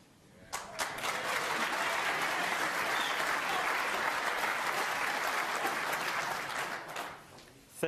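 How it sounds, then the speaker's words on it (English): Snooker crowd at the World Championship, Ronnie O'Sullivan versus Gary Wilson, breaking into applause: a sudden swell of many clapping hands that stays full and even for several seconds, then dies away. "generous round of applause"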